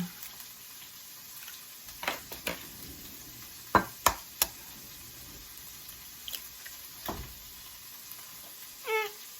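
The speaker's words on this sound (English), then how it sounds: "you want to go ahead and scramble up your eggs" Eggs being scrambled in a pan for fried rice: scattered scrapes and taps of a utensil against the pan over a faint, soft sizzle, with no talking.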